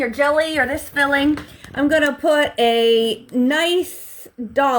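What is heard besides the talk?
None of the usual background noises is heard.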